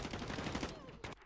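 Rapid gunfire from the video game Modern Warfare 2, a dense run of loud shots followed by a brief final burst, with faint talk mixed in.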